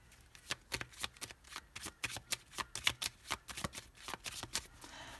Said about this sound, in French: Allez, on pose les 5 cartes.